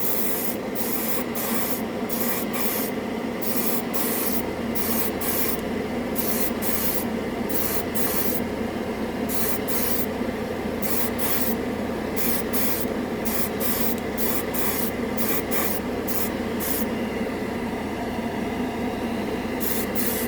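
An airbrush lays a final coat of yellow paint over red primer, giving a steady close hiss of air and paint broken into regular rapid pulses by slower passes, with no talk.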